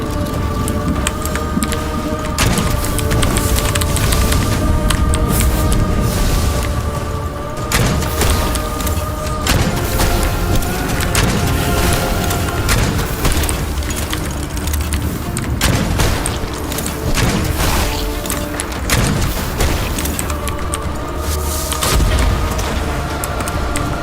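Grenade fired during combat in the video game Witchfire, with several heavy booming bursts rising out of a dense, loud mix of gunfire, effects and steady background music.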